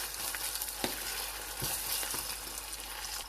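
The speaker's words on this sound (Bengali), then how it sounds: "তো আদা রসুনটাকে আমি ভালো করে একটু নেড়ে চেড়ে ভেজে নিব।" Ginger garlic paste frying in a pan, a steady close sizzle with a few clicks and scrapes from stirring spread through, no voices.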